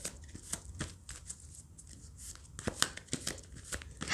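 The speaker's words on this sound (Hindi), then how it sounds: "अब हम आपके लिए ऑरेकल कार्ड्स देखते हैं" Oracle cards being shuffled by hand for a reading, with quick papery flicks and slaps in an uneven rhythm, close and without speech.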